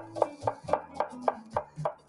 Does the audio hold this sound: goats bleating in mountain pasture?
no